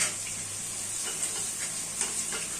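Green beans and peas go into a kadai already frying mixed vegetables for dalma, with a steady close sizzle and light stirring scrapes throughout.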